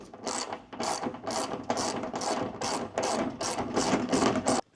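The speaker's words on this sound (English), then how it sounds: "There are two more nuts you have to loosen right on the bottom of the shroud." A ratchet wrench loosens nuts on the bottom of a log splitter's belt shroud, giving about nine close, even bursts of rapid metallic clicking with no talk.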